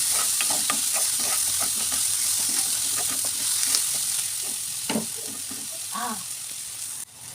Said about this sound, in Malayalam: ഇതിലേക്ക് ആവശ്യത്തിനുള്ള ഉപ്പും ആഡ് ചെയ്തിട്ട് നല്ലതുപോലെ മിക്സ് ചെയ്തിട്ട് ഇതൊന്ന് സോഫ്റ്റ് ആക്കി എടുക്കാം